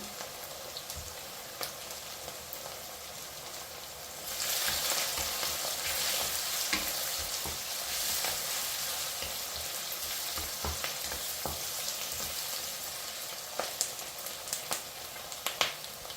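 Garlic hits hot oil for a Jaffna-style intestine curry; a soft, faint crackle turns into a louder, steady sizzle that holds close by, with a few small clicks near the end.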